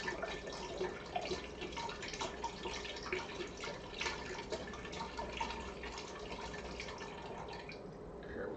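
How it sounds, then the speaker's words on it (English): Chicken stock poured into a cooking pot for tongue tacos, a steady, continuous splashing trickle of liquid at moderate level with no talking. "So I'm going to put some chicken stock in here, and I'm going to put a pretty good amount"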